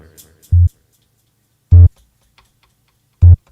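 Three short, evenly spaced electronic tick pulses from a Roland SP-404 MKII sampler's sound generator, clipped and low-pitched, sound about every one and a half seconds against near silence.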